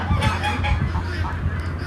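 Ducks honk and quack in a noisy cluster close by while being fed bread, calls overlapping continuously.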